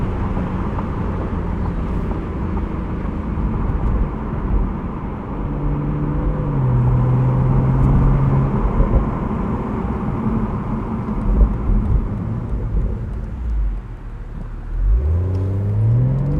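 A 2023 BMW Z4 M40i's B58 inline-six pulls through the gears from inside the cabin, a steady loud drone whose pitch climbs, dips at shifts, and rises again near the end.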